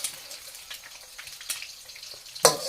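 Eggs frying in oil in a pan give a soft, crackly sizzle throughout, with scattered light pops and one sharper spatter or clatter near the end.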